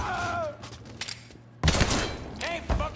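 Dense gunfire from Mafia 3, rapid overlapping shots in two loud clusters with a sharp surge midway, mixed with shouting voices and game sound effects.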